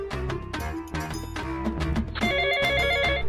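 A telephone rings in repeated bright electronic bursts that sit over steady background music, with no voices during the ringing.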